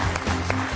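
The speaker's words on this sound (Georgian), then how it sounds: "აპლოდისმენტები მას" Audience applause on a Georgian comedy quiz show, a dense, steady wash of clapping lasting under a second, close and fairly loud with no voices on top.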